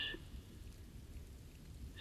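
Soft, steady rain falling in a sleep story set in the Appalachian hills, a quiet even hiss with brief brighter bursts at the start and end.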